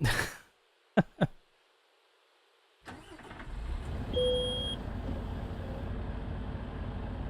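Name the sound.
truck warning beep in Euro Truck Simulator 2, video game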